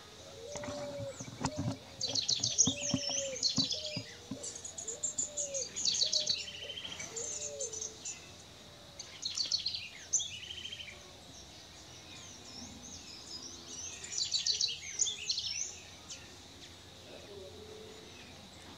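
Small birds chirp and twitter in scattered bursts at a backyard feeder stocked with papaya and banana, faint and somewhat distant, with quiet pauses between flurries of song.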